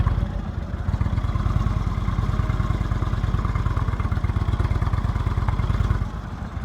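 Motorcycle engine held at low revs with the clutch in the friction zone during slow-speed skills practice, a steady, loud, close chugging idle with a fast even pulse throughout.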